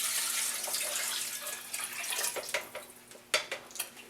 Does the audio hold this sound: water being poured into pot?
yes